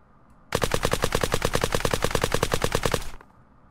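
A silenced Honey Badger machine gun firing in the video game Unturned, one sustained rapid burst of about two and a half seconds with a fast, even rhythm, loud and close, with nothing else heard.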